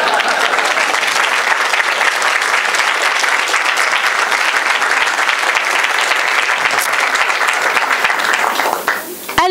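Loud, sustained audience applause at a thesis prize award ceremony: a dense, continuous roar of many hands clapping that holds steady for several seconds before dropping off briefly at the very end.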